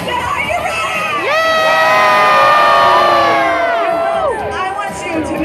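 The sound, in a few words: cruise ship crowd cheering during a countdown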